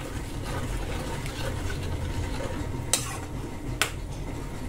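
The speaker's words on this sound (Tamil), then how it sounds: "உப்பு போட்டு நல்லா கலந்து விட்டுருங்க" Salt stirred into boiling rajma paneer gravy in a pot, a steady low bubbling simmer with a couple of sharp spoon clinks against the vessel.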